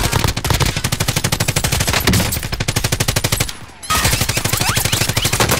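Rapid automatic gunfire from Call of Duty: Modern Warfare fills the scene in loud, sustained bursts, breaking briefly near the end before resuming, with faint voices underneath.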